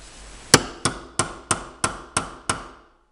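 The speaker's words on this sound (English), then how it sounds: "get your tool that smacks this down, smacks the head of the rivet down" A hammer taps down the head of a rivet in seven sharp, evenly spaced metallic strikes, each ringing briefly before the next, close and clear with no voices.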